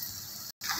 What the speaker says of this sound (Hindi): अब इसमें हम पानी डाल रहे हैं।